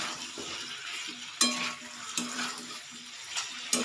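Ginger, green chili and cumin-coriander paste sizzle softly in a pan, with a few sharp clinks of a spoon against the metal rim scattered over the quiet frying.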